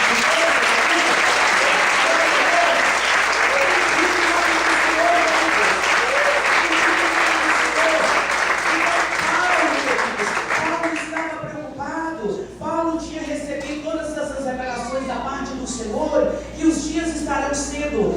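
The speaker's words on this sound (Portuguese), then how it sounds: "Você pode aplaudir e glorificar." Sustained loud applause from a church congregation during a ministry session for workers and pastors, filling the first ten seconds before thinning into scattered claps under a preacher's voice and crowd murmur.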